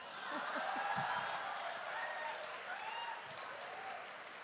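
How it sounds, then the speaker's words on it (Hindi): An audience clapping during a Hindi talk on the younger generation: steady, dense applause throughout, with a few murmuring voices and faint tones in the background. "देखिए तालियां भी बज रही हैं"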